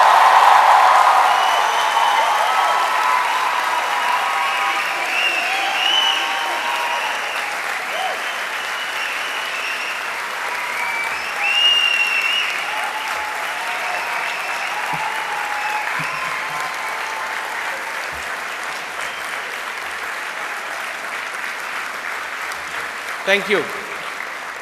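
At the LUMS university convocation in 2012, a large audience gives long, sustained applause that fills the hall and slowly fades, with a brief spoken thanks near the end.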